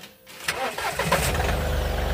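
Mahindra Bolero BS6 diesel engine cranking and starting, a short whir of the starter followed by the engine catching into a steady, rhythmic diesel idle close by.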